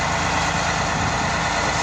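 A John Deere 8335R tractor pulling a Horsch Cultro 12 TC cultivator across a winter barley field gives a steady, loud, low engine drone that runs unbroken from start to finish with no talk.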